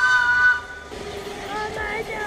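A train passes near a station, with a steady whistle-like tone in the first half second giving way to rumbling, clattering rail noise as people talk over it.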